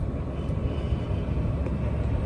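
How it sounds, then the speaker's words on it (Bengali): Air conditioning running inside a 2019 Toyota Esquire Gi Hybrid with the TRD Sportivo package, a steady, loud cabin rumble and blowing whoosh with no engine sound and no talking. "এসিটা একটু চালাই দিয়ে অনেক গরম লাগতেছে।"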